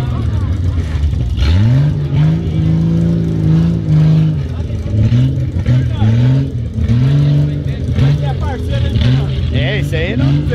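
Off-road car revving and accelerating hard on a dirt trail, the engine note climbing and dropping repeatedly through gear changes, loud and close, with people talking over it.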